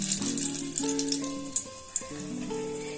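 Dried red chilli and bay leaves frying in oil for chana masala give a light, crackling sizzle under prominent melodic background music, with a couple of sharp pops near the end.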